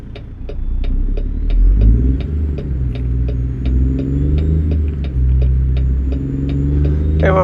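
A Ruda Classic XL truck hauling a Great Dane trailer in American Truck Simulator gives a loud, steady engine rumble whose pitch rises and falls with speed, under an even, regular ticking.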